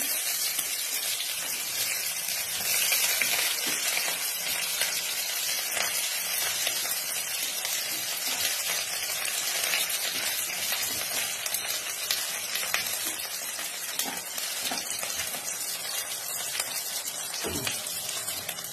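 Onions frying in a pan for a rohu fish curry: a loud, dense, continuous hiss of sizzling oil, steady throughout with a sharp tap near the end.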